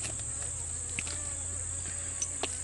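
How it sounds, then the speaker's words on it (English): A big bee buzzing around someone outdoors, giving a thin, steady buzz that stays faint and continuous, with a few soft knocks in the background. "this big bee keeps flying around me"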